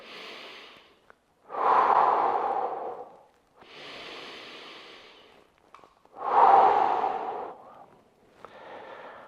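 Deep, slow breaths during a resistance band shoulder and neck stretch: long airy inhales and exhales, some forceful and close, alternating with brief quiet gaps.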